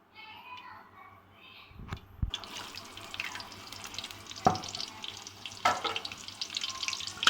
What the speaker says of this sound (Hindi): प्याज मैंने जैसे ही डाले वो फ्राई होना शुरू हो गए हैं